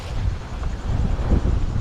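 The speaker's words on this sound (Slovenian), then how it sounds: "Končno malo vetra, ena nevihta, za nami je polno, tako da smo zajadrali." Wind buffeting a sailboat under sail during a storm off Papua New Guinea, a loud, continuous low rumble of gusts with no talking.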